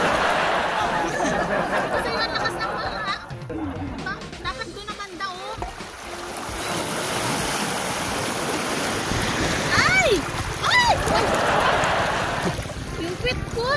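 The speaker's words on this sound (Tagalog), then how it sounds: "Eh, kaso sobrang lakas ng alon doon." Strong sea waves wash against an island shore, a continuous rushing surge with some gusty wind and occasional higher whistling tones over roughly fourteen seconds.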